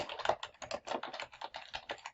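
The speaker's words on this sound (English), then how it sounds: "I'll start by typing my return address" Someone types on a computer keyboard, producing a quick, irregular patter of light, close key clicks across a couple of seconds with no speech.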